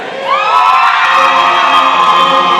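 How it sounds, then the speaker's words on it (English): Volleyball fans of Century in a school gym cheer loudly, a sustained crowd roar with high shouts and whoops swelling after a brief quiet start and holding steady. "Century, let me hear you cheer."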